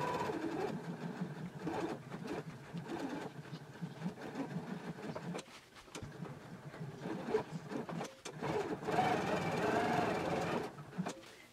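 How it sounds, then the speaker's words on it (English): A sewing machine edge stitches a pocket onto an anorak, running in steady rapid mechanical bursts with short pauses, close and fairly loud. "we'll take it to the machine and we will edge stitch the pocket all the way around in place"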